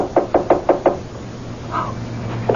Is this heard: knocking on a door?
yes